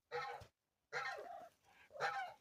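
Backyard chickens, a mix of dark hens, cluck in a yard in three close, moderately loud bursts of throaty clucking separated by short pauses, with no voices.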